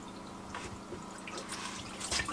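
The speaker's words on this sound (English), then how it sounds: "So get a jug, cold water, fill it up to the top mark on this." Cold tap water runs into a jug aboard a narrowboat galley, a steady close trickle with faint dripping and clinking, no talk over it.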